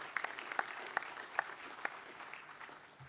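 Scattered applause for graduates at an RMIT University degree conferment ceremony, a thin patter of claps with a few sharper individual hits, fairly distant and fading toward the end.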